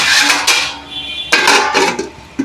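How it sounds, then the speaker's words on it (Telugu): Metal clinks and clatters of a lid set onto a pot of lemon rice on the stove, several close, sharp contacts with brief ringing in between. "కాసేపు మూత పెట్టుకోవాలి"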